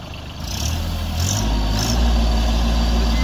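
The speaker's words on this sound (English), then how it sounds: "this is an example of where you might want a bit more engine revs occasionally" A heavy Branson tractor engine working a backhoe hums loudly nearby, then its pitch and rumble rise as it revs up and holds at a higher speed.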